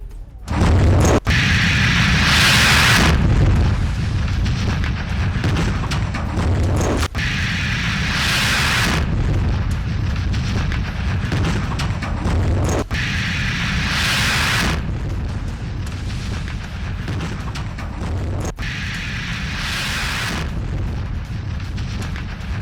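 Gas station explosions in Grozny, Chechnya: a continuous loud, roaring blast noise with deep rumble, swelling in repeated surges every few seconds.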